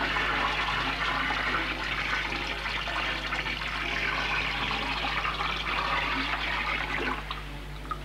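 Water pours out in a continuous rushing, splashing stream, steady and fairly loud throughout before tailing off at the end.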